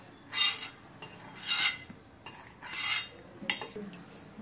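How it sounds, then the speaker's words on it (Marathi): Boiled drumstick pods are lifted out of a pot onto a plate in a home kitchen, with five close, soft scraping clatters of utensil against cookware coming in a steady, unhurried rhythm and no talking. "एका प्लेट मध्ये काढून घ्यायच्या."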